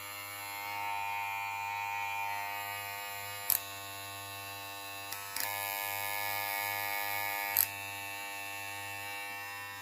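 VGR V671 hair clipper running with a steady electric buzz and mains-like hum, held close and fairly quiet. A few brief clicks or taps break in partway through.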